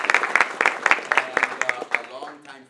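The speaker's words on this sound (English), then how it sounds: "Let's give her a round of applause." Sparse, uneven claps from a small audience at a congressional event, fairly quiet and thinning out toward the end, with a voice speaking underneath.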